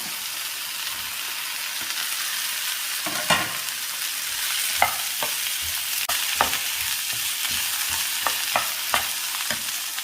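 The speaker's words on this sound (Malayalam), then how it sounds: "അതിലേക്ക് ഉരുളക്കിഴങ്ങും കോവയ്ക്കായും ചേർക്കാം." Potatoes and ivy gourd stir-fried with onions for a Kerala-style mezhukkupuratti: a steady close sizzle of frying, broken by irregular sharp scrapes and knocks of a spatula against the pan.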